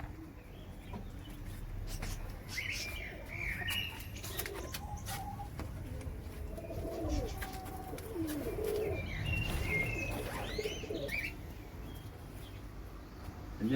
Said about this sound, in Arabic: سامعين صوت الحمام